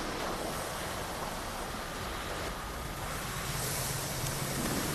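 Steady rushing spray from a fire hose in Chernobyl Liquidators Simulator, a continuous broadband hiss of water jet that swells slightly toward the end, heard alone at moderate level.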